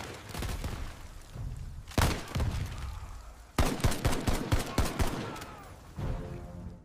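Bursts of gunfire in a Navy SEALs combat scene, several loud volleys of rapid shots in quick succession separated by short gaps, with a low rumble beneath.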